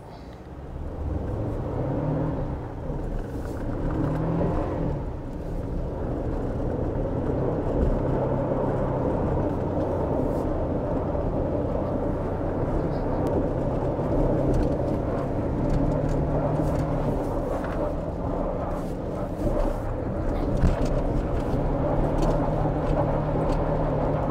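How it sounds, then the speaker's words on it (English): A 2024 Toyota Tacoma TRD Off-Road truck doing a burnout, its engine giving a loud, steady roar that holds for the whole stretch with no break. "Let's do a quick burnout."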